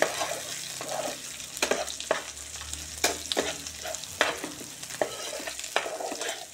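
Green chillies being stirred into sizzling onions in a frying pan for paneer matar masala, with a steady close frying hiss and repeated sharp spatula scrapes and clicks at irregular intervals, no talking.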